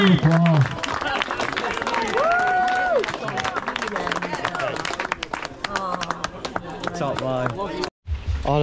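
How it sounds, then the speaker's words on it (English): A crowd at the 40th Bolehills bike jam applauds outdoors, a rough burst of clapping and cheering with voices and whistles mixed in, and people talking nearby throughout. "Big round of applause."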